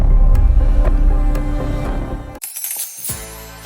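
A few coins clink and drop onto a surface, a short bright jingle following a busier stretch of sound.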